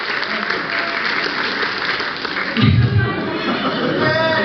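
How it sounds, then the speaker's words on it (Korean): Applause at a church retreat worship service, a steady wash of clapping from a gathered congregation that swells louder partway through, with a voice speaking over it. "큰 박수 부탁드립니다"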